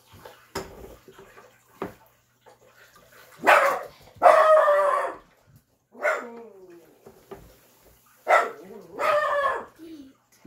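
A dog barks in several loud, separate bursts, some coming in quick doubled pairs, set apart by quiet gaps in an indoor room.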